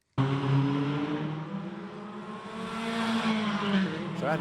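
A Formula 4 race car on the Macau Grand Prix street circuit screeches loudly as its brakes lock up, a sustained tire squeal over a droning engine that holds for several seconds close by, with commentary speech underneath.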